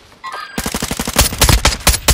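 Rapid automatic gunfire rings out in Call of Duty Warzone 2, a close, loud burst of dense, rhythmic shots following a brief quiet moment of game sounds.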